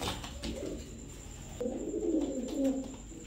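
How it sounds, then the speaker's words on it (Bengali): Pigeons of a Girribaz breed at a breeder's sale cooing close by, low throaty repeated coos that grow fuller in the second half over a faint background hiss. "এটি হলো কবুতর, আইছে কবুতর"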